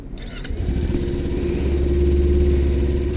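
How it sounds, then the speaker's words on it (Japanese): A 2018 Kawasaki Ninja 250 motorcycle engine starts up and settles into a steady, close idle with a slight rise in revs, alone without speech. "エンジン音は忍者だ。"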